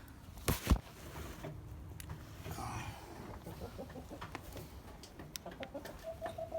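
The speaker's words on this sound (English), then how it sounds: "Good chickens." Chickens cluck in short, scattered bursts, with a sharp nearby knock near the start. The fowl sound moderately close and keep up irregular clucks and calls throughout.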